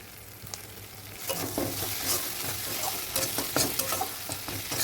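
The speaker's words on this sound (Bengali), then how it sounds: "তো সুন্দরভাবে এইভাবে আমি আরও ভালো করে মশলাটা কষিয়ে নেবো, যাতে মশলার গা থেকে তেল ছেড়ে দেয়" Vegetarian soy keema masala paste stir-frying in a pan gives a steady, close sizzle with scraping stirs. It grows louder after the first second and carries on with no talk.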